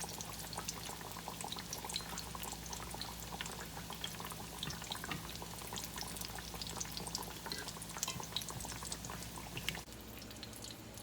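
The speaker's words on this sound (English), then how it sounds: "Drop them down in there easy and slow because that oil is very hot." Apple turnovers made with canned apples frying in very hot oil, a faint, steady crackling sizzle with fine popping bubbles that runs evenly throughout.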